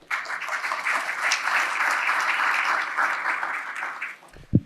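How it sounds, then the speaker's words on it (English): An audience applauds steadily at a Marquette Law School event on affordable housing in Milwaukee, the clapping a dense, even patter that holds for several seconds before tapering off, with a soft thump at the end. "So give yourself a round of applause for joining us today."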